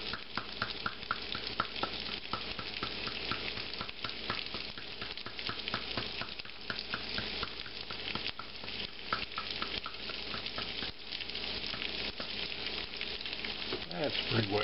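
Potatoes frying with bacon and onions in a pan, sprinkled with a salt, black pepper, paprika and cumin mix: a dense, crackling sizzle that runs steadily and evenly, close up, with no voices.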